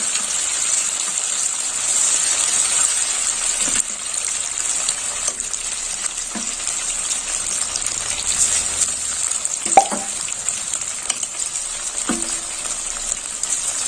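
Paneer cubes frying together in hot oil, giving a steady loud hiss and sizzle that runs throughout, close up, with a few faint clinks of a utensil.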